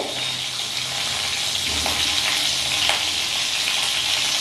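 Whole cumin seeds sizzle in hot oil with a split green chilli, a steady bright crackling hiss over low flame that runs without pause.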